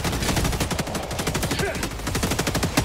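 Dense, rapid automatic gunfire rattles nonstop in a video game firefight, loud and close with overlapping bursts and no clear pauses.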